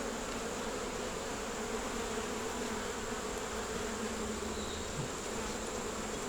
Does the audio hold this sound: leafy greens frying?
no